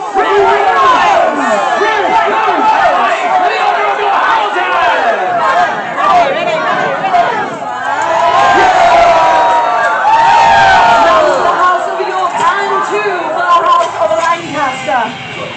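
A large crowd cheers and shouts loudly and continuously at a staged medieval-style rally of the rival houses of Lancaster and York, with the white and red roses as their emblems, the roar swelling into peaks of hollering.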